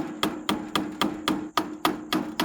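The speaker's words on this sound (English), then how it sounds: "Dang, this is like breaking as I hammer it." Repeated hammer blows drive a nail into wood that cracks and splits, about ten sharp, evenly spaced strikes, close and clear with no talking, set outdoors beside a trout stream.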